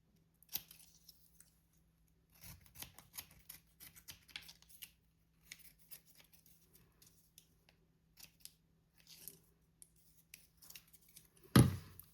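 Scissors snipping paper while making a handmade Valentine card: quiet, intermittent clusters of short crisp cuts with pauses between them, ending in one louder thump.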